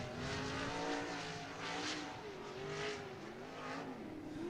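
Late model race cars roar around Cottage Grove Speedway during Loggers Cup qualifying, with a steady, loud engine drone and rising and falling revs as cars take the green flag onto the front straightaway.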